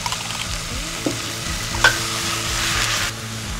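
Portobello and other mushrooms frying in a pan make a steady, bright sizzle with a few stirring scrapes, close and continuous, while a musical tone hums underneath.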